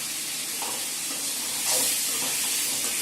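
Chopped tomatoes dropped into a hot kadai for prawn gravy, giving a steady loud sizzle and hiss with a brief surge partway through.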